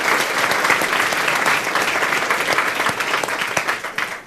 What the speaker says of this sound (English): So can we have a big round of applause for Owen,